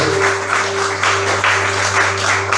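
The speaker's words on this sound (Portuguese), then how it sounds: "Aplauda o nome do Senhor" A church congregation applauds together, a dense, even wash of many hands clapping with a low steady hum beneath it.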